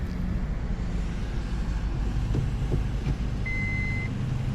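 A car reversing during driving practice, low engine rumble under a single clear electronic warning beep, with faint knocks in the background.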